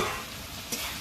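Potatoes and spices sizzle in hot oil in a village-style kitchen, giving a close, continuous frying hiss with a brief scrape of stirring near the end.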